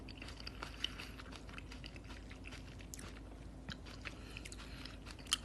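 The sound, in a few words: chewing food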